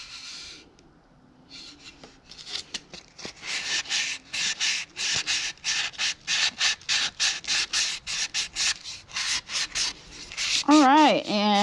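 A wood-turned red cedar cellphone amplifier is sanded on a lathe, giving a rapid series of rhythmic rasping strokes, loud and close, with a few quiet spoken words near the start and a short whistle-like wobble at the end.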